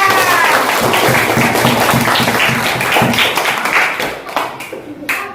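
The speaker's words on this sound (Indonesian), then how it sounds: "Kita beri tepuk tangan untuk teman-teman kita." A classroom of students applauds, dense steady clapping from many hands filling the room at full loudness, then tapering off near the end.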